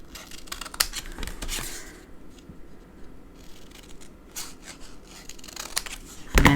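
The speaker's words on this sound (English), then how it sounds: "Get my scissors, cut out my little corner piece." Scissors snip and rustle through stiff card stock from a Stampin' Up! card kit at close range, several crisp cuts with shuffling and a sharp clack at the end.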